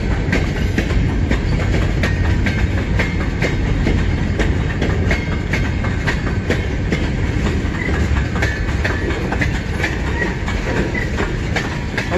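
A long freight train rolls past at close range in Emmett, Michigan, giving a loud, continuous rumble with steady clickety-clack of wheels over rail joints and no break in the passing.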